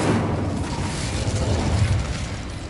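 Incendio fire spell cast in Hogwarts Legacy, a loud, dense rumbling burst of flame that roars steadily for nearly three seconds with no break.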